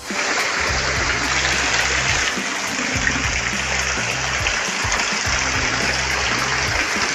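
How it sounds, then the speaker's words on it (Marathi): Heavy monsoon rain in a Konkan village pours steadily alongside rushing run-off water, a constant dense hiss and splash with a low rhythmic gurgle underneath, no voices heard. "जोरात पाऊस आलेला आहे."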